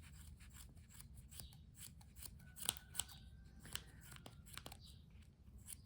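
Scissors snip crochet yarn close up for a baby boy's crochet hat, giving a few sharp, brief cuts against a low steady background hum, with no voices.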